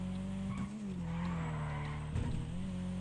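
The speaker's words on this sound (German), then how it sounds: "ich fahre jetzt einfach mit meinem Auto da" A car in GTA Online drives with a steady engine drone, its tires squealing and skidding in short bursts as it swerves, all rendered as game audio without any talk.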